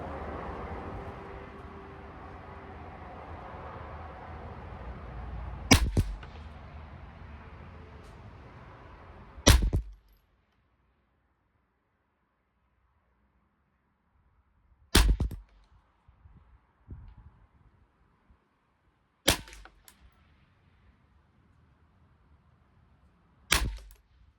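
Semi-auto .22 rifle fires from a benchrest at 50 yards outdoors, five sharp separate cracks several seconds apart, over faint wind and rain and with no talking.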